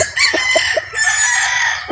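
A Sweater Boston broad stag gamecock crows loudly and close, with a long strained call and clucking from other fowl nearby.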